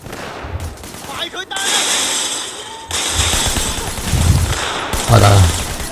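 Gunfire during a gang war in the video game Sleeping Dogs: loud, dense bursts of rapid shots and automatic fire rattle almost continuously, close and harsh.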